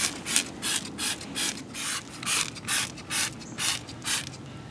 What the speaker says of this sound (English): Just spray it, wipe it with a rag, and all that brake dust, road grime comes right off.